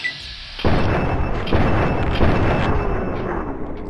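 Gunfire in Fallout 3, a loud thumping burst that starts abruptly after a short quiet lead-in and then continues as dense, booming shots repeating over a rumbling background.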